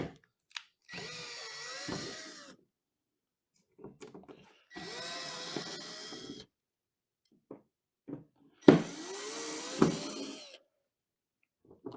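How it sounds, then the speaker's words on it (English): Power screwdriver backing screws out of an RV screen door, three separate whirring bursts of a couple of seconds each with quiet handling clicks between them. "I'm going to be removing the screws here to remove the shade area."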